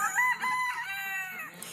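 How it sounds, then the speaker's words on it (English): A rooster crows on a farm, one drawn-out call that rises and trails off, heard nearby and clearly with no talking. "Look at the rooster over there."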